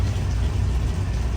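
A 1989 Chevy K1500 pickup's engine runs rough with a steady low, throbbing rumble close by, continuous and uneven through the whole stretch, with no voices.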